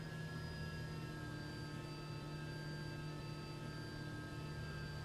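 A helicopter hovers in a flight simulator game, its engine making a steady, faint turbine whine with a low rotor drone underneath, constant and unchanging throughout, with no voices.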